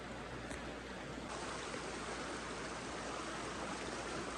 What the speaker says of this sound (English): So yeah, here's the river.